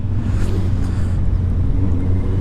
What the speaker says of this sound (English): It's got a lovely bark to it.